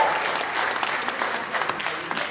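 Audience applause, many people clapping in a dense, continuous patter that starts strong and tapers slightly, fairly loud and close in a room.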